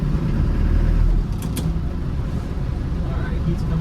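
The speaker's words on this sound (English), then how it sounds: "let's take her through the gears one more time" A 1991 Land Rover Defender 90 with the 200Tdi diesel driving along, a steady mid-pitched engine hum with a small dip in loudness around a gear change, under road noise.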